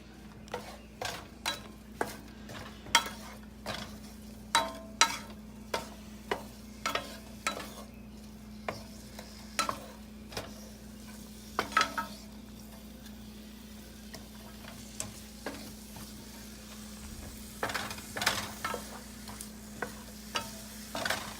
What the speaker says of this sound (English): we're just gonna saute these down until they're tender